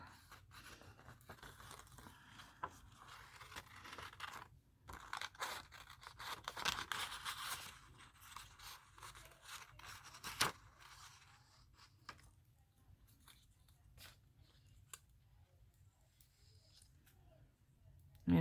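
Scissors cut paper for a collage, making quiet, close snips and papery scrapes in an irregular sequence over a faint low hum, with occasional sharper crinkles.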